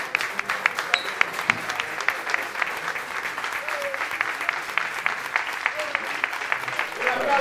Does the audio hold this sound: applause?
yes